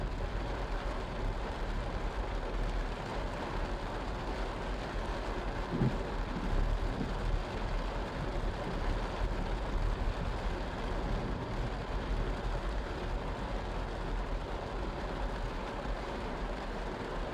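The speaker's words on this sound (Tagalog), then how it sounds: "sobrang lakas ng ulan na to" Heavy rain in a tropical downpour on a highway, a constant loud roar of water with no breaks, low rumbling mixed in throughout and no voices.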